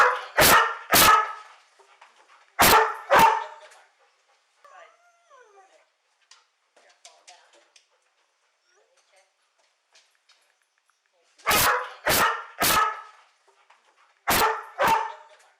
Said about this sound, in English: he goes barking mad again